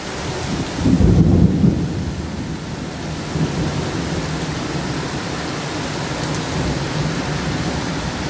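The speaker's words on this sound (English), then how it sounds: "I woke up to thunder and lightning." Deep thunder rumbles through steady rain at Jawhar Hills in Maharashtra, with one loud roll near the start, then a long low rolling growl that sits under a constant hiss of rainfall.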